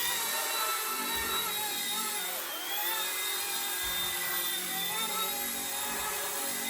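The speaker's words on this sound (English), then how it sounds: "then we'll turn on the heli" A scale mini RC helicopter, the Rage RC Hero-Copter, hovers with a steady, close, high-pitched electric whine and rotor buzz that dips briefly in the middle and then holds level throughout.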